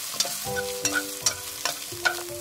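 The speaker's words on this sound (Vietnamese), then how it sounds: "Đợi dầu nóng thì mình cho hành, tỏi và riềng vào phi thơm." Shallots, garlic, galangal and lemongrass frying in hot oil for a hot pot base, with a steady sizzle broken by regular scraping stirs roughly twice a second and soft music underneath.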